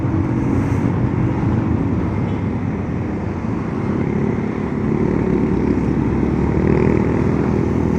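Road traffic with many trucks rolls past on a Philippine road near Antipolo, a loud continuous engine drone and tire roar heard from a moving vehicle, swelling slightly toward the end.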